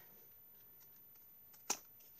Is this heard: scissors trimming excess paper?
yes